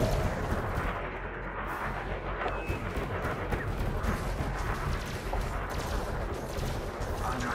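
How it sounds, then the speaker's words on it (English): Cannon fire booms and rumbles densely in a space combat game, with dense overlapping blasts and rumble filling the whole stretch, loud and close, with no clear talking. "I got him with the cannon."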